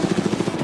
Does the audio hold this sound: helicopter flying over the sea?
yes